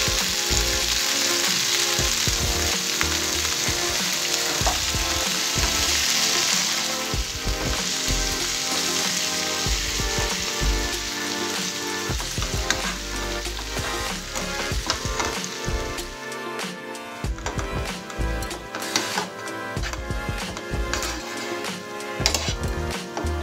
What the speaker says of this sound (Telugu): ఇదే ఆయిల్లో చుక్కకూరను కూడా ఫ్రై చేసుకోవాలి